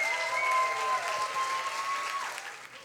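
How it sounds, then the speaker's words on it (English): A crowd at a Berlin science slam applauds to send off the competing slammers, a dense, even clapping that holds steady and then thins out toward the end. "with a warm round of applause, please say goodbye to all the Slammers except for number 1"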